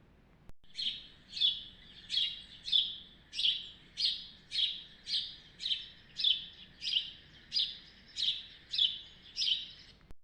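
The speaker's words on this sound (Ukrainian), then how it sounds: "Дуже весело цвірінькають." A small bird chirps in a steady, regular series of about fourteen bright calls, clear against a quiet background.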